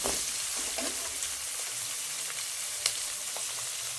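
Vegetables sautéing in a pan for egg fried rice give a steady close sizzle with occasional stirring scrapes and a few sharp pops, no voices.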